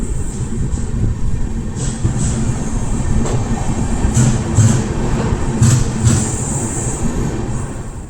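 A passenger train stands at Daund Junction station in the early morning with a steady loud rumble of engine and carriages. Faint clicks and squeals sound over the top, and there are no clear voices.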